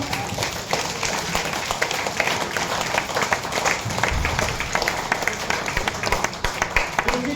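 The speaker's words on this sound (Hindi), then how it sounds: "जोरदार ताली देगा बताओ।" A seated audience at a motivational business seminar in Malda claps loudly on cue, a dense, sustained roar of hands with sharp individual claps standing out, continuing steadily for several seconds.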